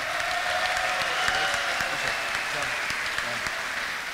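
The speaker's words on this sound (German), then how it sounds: "Hier berührt ein ganz besonderer Applaus." Steady audience applause honours a hunting horn player at a hunting horn competition held in an agricultural school hall, a dense, even patter of clapping hands that holds at a constant level throughout.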